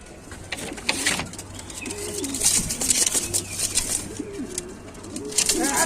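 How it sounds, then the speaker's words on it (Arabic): Pigeons coo repeatedly in a loft of birds kept for sale, their low rolling calls recurring close by over a busy backdrop of rustling and faint bird chatter. "حمامتين حرب"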